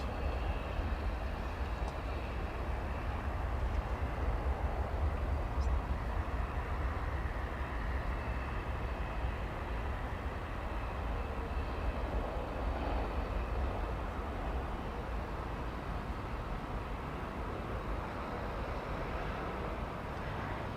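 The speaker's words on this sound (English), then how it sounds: "That is the UPS flight bound for Ontario, California." A UPS cargo jet bound for Ontario, California, roars at DFW airport, a steady broad rumble with low-end drone holding throughout, with no one talking.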